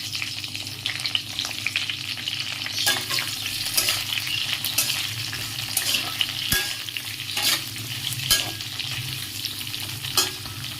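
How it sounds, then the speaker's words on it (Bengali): Potatoes fry in hot oil in a pan, a constant crackling sizzle punctuated by scraping stir strokes and soft knocks, close and continuous with no talking. "এবার আমি গরম তেলের মধ্যে আলুগুলো দিয়ে বেশ কিছুক্ষণ ভালোভাবে ভাজবো।"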